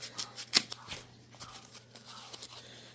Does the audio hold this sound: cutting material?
yes